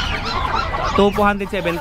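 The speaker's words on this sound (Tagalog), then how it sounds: "Mga manok natin magkano?" Chickens cluck at a farm where the birds are being sold, short fowl calls rising over a busy background while a person speaks nearby.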